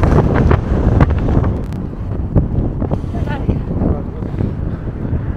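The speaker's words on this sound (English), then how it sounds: "This wind is so strong right now. I really hope the sound will be okay." Heavy wind on the Harvard Bridge in Boston buffets a microphone, a constant low roar with gusty bursts throughout.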